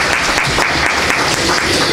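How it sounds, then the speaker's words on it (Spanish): Steady applause from an audience at a Spanish-language conference on jack mackerel fishing, thanking a doctor after his talk; dense, even clapping fills the whole stretch without pause. "un aplauso para el doctor"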